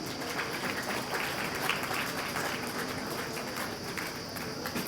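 An audience at an inauguration event applauds to welcome the chief guest, dense continuous clapping from a large crowd, fairly loud and sustained throughout with no break.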